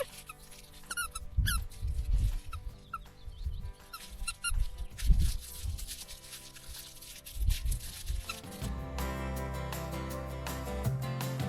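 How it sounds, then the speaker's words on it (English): A dog's squeaky toy squeaks in repeated short bursts, loud and close, with bouts of chewing and rustling between, and a louder steady squeal toward the end. "He's never too tired for his squeaky toy."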